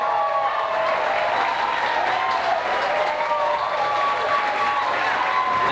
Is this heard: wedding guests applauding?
yes